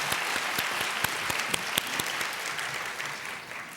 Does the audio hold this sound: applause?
yes